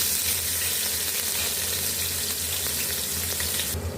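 Loud, steady sizzling of crushed garlic, ginger and green chilies frying in hot oil, continuous and close with no talking.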